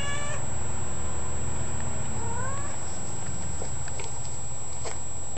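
A cat meows outdoors near a door, a few distinct rising calls at the start and middle, with faint background hiss and a steady high tone.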